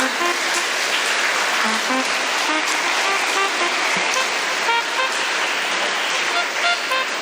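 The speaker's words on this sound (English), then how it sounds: "A huge round of applause, please." Audience applause at an investiture ceremony, a dense, steady wash of many hands clapping at full volume throughout, with faint horn-like tones mixed in.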